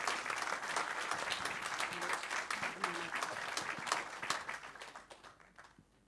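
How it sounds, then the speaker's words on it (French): An audience applauds an author at a francophone manuscript awards ceremony, steady clapping that holds through most of the moment and then fades out toward the end. "Oui, vous pouvez l'applaudir, je pense."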